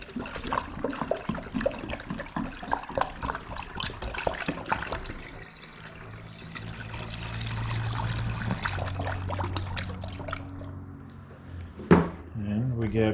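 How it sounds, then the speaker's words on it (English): Water is poured into a jug in a steady gurgling stream, with handling clatter and a sharp knock near the end. "We can take our distilled water, pour it in here."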